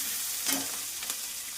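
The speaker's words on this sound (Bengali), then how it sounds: "এখন এর মধ্যে আদা রসুন আর ক্যাপসিকাম পেঁয়াজ দিয়ে ভাজা করছে" Chilli chicken frying in a pan with ginger, garlic, capsicum and onion, giving a soft, steady sizzle with a couple of brief stirring scrapes, heard close and quiet with no talking.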